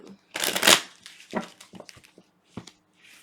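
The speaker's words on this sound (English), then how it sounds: "So let's just give this a good shuffle just to make sure that we get an accurate read." Tarot cards are shuffled up close. A loud riffling burst comes first, followed by several shorter, quieter rustles and taps of the deck in an otherwise quiet room.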